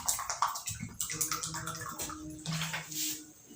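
Water from a 1-litre bottle splashes and gurgles into a vessel in uneven glugs and pours, close and moderately loud, ending in a sharp knock.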